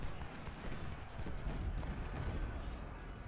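Artillery fire in the Civil War strategy game Ultimate General: Civil War: a dense, continuous rumble of booming cannon shots, loud and rolling without clear gaps.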